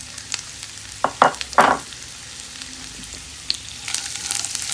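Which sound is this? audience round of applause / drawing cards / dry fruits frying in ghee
dry fruits frying in ghee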